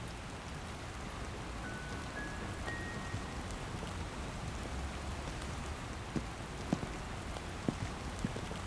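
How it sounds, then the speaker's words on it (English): Heavy rain falls in the video game Love and Deepspace as a steady, soft hiss of drops, with a few sharper drips and taps standing out near the end. "The rain is getting heavier."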